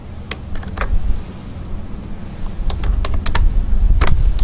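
Someone types C++ code on a computer keyboard: a run of quick, close key clicks in irregular bursts over a low background hum, with no talking.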